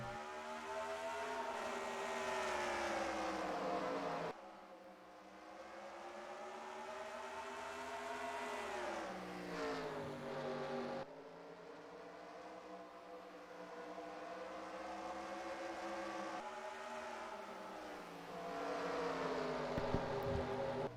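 Race cars roar off at the start of a race at Bristol in the iRacing game, a loud sustained engine drone with rising pitch sweeps and abrupt cuts between cars, no talk.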